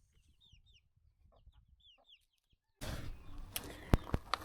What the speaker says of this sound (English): Unlike Grandma Grumpy, who is a star mum and her chickens are thriving.